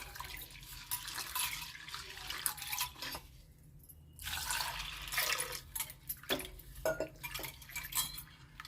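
Split chickpeas (chana dal) are washed in water in a kitchen, with uneven sloshing and rubbing bursts and light clinks from a vessel, close and fairly quiet.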